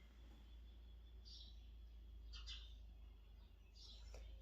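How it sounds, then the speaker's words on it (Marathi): Faint, scattered bird chirps come a few times through a quiet outdoor stillness over a low, steady hum. "फक्त पक्ष्यांचा किलकिलाट चालू आहे बघा"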